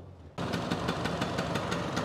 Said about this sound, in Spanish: Aquí tenemos la moto que ya está arrancada sin el aceite adentro de la caja de cambios